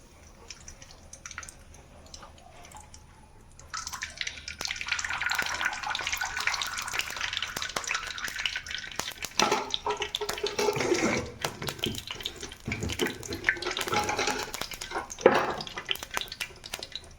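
Coconut oil poured into a pan on the stove: after a few quiet seconds, a steady, faint liquid stream runs for about ten seconds, close by and alone, then trails off with a few small splashes.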